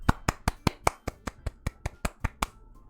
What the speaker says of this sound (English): I was clapping, Alexa.